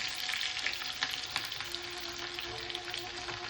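Mustard seeds and green chillies splutter in hot oil as a tempering for dhokla, a close, steady sizzle with sharp crackles and pops scattered throughout.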